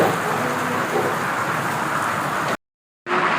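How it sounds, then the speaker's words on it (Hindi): Heavy, steady mountain rain pours down outside in Gaurikund in a dense broadband hiss, loud and close, briefly cutting out before resuming. "बाहर बहुत तेज बारिश हो रही है"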